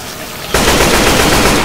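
Rifle fire from Left 4 Dead 2's Hard Rain campaign bursts in after a half-second lull, then continues as a loud, dense, rapid stream of shots to the end.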